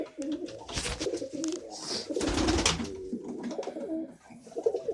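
Repeated soft cooing from a male pigeon or dove near its nest, close by, in a steady series of low throaty calls with slight rustling between them.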